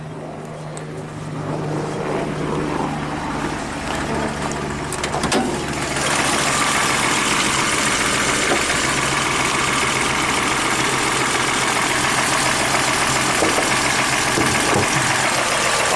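A 1998 Toyota Camry V6 with a misfire rolls into the shop and settles into a steady, close engine idle, a low continuous rumble that grows fuller after the first few seconds.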